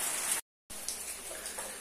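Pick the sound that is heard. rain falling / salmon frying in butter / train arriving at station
rain falling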